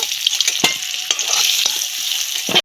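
Potato pieces fry in hot oil in a home kitchen, a close, continuous crackling sizzle broken by sharp stirring scrapes and clicks, with no talking.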